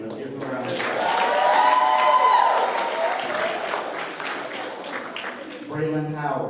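Audience applauding a stagehand at a show, clapping swelling and holding under a prominent voice, then tapering off as talk resumes near the end.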